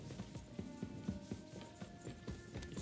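Horse hooves in Kingdom Come: Deliverance 2 clip-clop in a quick, even trotting rhythm, soft and fairly close, with no talking over them.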